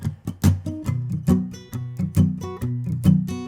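Acoustic guitar strumming the chords of Jason Mraz's "I'm Yours" in a steady down-up rhythm, alternating low and high strings with light palm muting: close, rhythmic chord strokes with accented beats, no voice.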